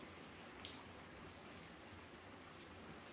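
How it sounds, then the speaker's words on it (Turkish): Rain falls outside at a constant, soft level: a faint, even patter of drops on surfaces with no voices. "Ya yağmur yağıyor, gördün mü dışarı?"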